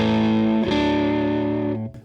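Electric guitar through an audio interface, a single distorted chord ringing loud and sustained for about two seconds, briefly re-struck midway, then cut off, with no voices.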